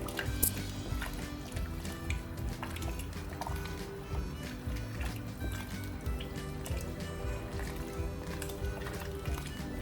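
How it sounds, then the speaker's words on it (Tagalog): Creamy Filipino sopas soup is stirred in the pot and left to simmer, giving continuous soft wet sloshing, squishing and small drips at a moderate, close level with no voices. "Haluin na natin at hayaan natin kumulo."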